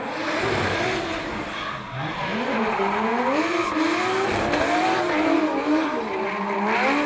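A Nissan R34 Skyline drifts at a D1NZ pro championship qualifying round in Wellington, its engine revving and wavering loudly while the tires squeal continuously, close and dominant with no voices.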